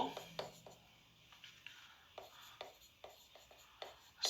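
Pen or chalk writing by hand on a surface during a Hindi vocabulary lesson, a quiet run of short scratchy strokes and taps in an irregular rhythm, close and faint.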